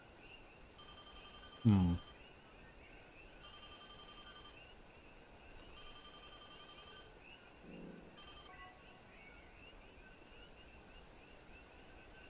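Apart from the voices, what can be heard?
telephone ringing in the video game Deadly Premonition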